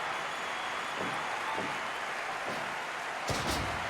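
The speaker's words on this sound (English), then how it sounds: "The crowd going crazy here for this main event bout at Night 3 of the New Dawn Tournament Series" Crowd cheering and applauding at a main event bout of a live wrestling show, a dense, steady wash of clapping and noise from the audience that stays loud throughout, with a sharper burst near the end.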